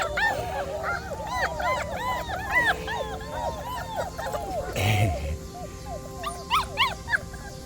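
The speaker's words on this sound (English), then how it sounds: "10 little puppies." A litter of ten five-week-old German Shepherd puppies whimpers and yips in a constant overlapping chorus of high, rising cries, close by, with a brief thump midway.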